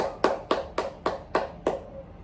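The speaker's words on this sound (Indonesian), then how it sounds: "tepuk tangan yang meriah untuk Mbak Fida" Six evenly spaced, sharp claps from a small classroom group in an Indonesian microteaching lesson, close and moderately loud, with no talk over them.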